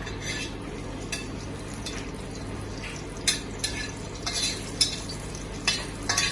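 Pork belly sears in a hot pan for Chinese braised pork, a steady low sizzle under repeated scraping and clinking of a utensil against the pan as the pieces are stirred.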